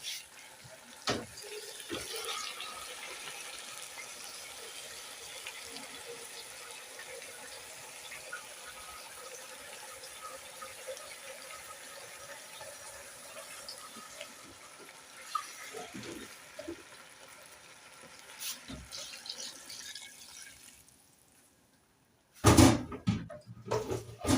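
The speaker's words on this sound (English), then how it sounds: "So let me now put my water." Water pours steadily into a sufuria over arrowroots for a stew, a soft continuous splashing and trickling that runs for about twenty seconds before a brief clatter near the end.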